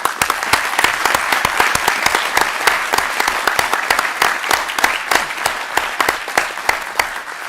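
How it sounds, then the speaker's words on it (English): Conference audience applauding session organizers and colleagues, a loud steady wash of many hands clapping close and continuously throughout. "I'd love to ask everybody to give a round of applause to our IEA colleagues and all the organizers of this session"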